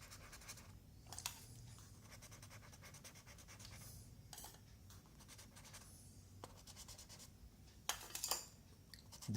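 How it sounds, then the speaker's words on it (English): A colour pencil dipped in water scratches heavier strokes across paper while shading a white swan, giving bursts of close, dry scraping separated by pauses. "you may dip the same color pencil in water and add some heavier strokes"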